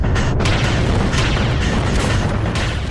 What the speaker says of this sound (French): Les canons pilonnent la ville